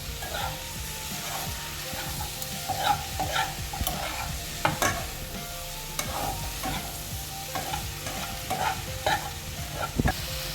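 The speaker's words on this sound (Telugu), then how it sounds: "ఈ వేగుతున్న కూరలోకి ఇప్పుడు మనం టమాటాలు యాడ్ చేసి" Potato and capsicum curry with tomatoes fries in a pan over a medium flame, a steady sizzle broken by repeated scraping stirs of a spoon against the pan.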